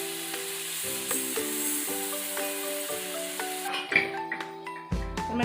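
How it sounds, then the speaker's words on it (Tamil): Mango pieces sauté in a pan with a steady, close frying sizzle, partly masked by tonal background music for most of the clip. "மாங்காய் வதங்கிட்டு இருக்கட்டும்."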